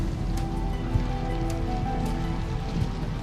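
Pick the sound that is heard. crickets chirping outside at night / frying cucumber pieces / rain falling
rain falling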